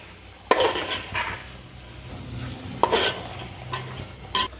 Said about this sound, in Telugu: గోంగూర వేసిన తర్వాత చికెన్తో కలిసేలాగా ఒకసారి కలుపుకోవాలి